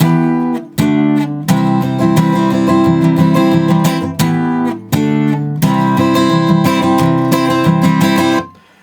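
Acoustic guitar strumming full chords in a steady four-beat rhythm, close and loud, with two brief pauses between repeated phrases before the final chord rings out.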